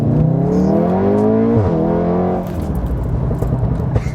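Fast car fitted with an Overkill custom exhaust, engine droning loud and close with rising pitch, a quick shift dip midway, then a rougher, burbling tone as it settles.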